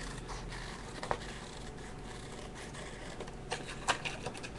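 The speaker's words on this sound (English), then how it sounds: "what you want to do is just go in with your scissors" Scissors cut around a picture in a craft project, giving a few faint, sharp snips and scratchy paper rustles spaced irregularly over quiet room tone.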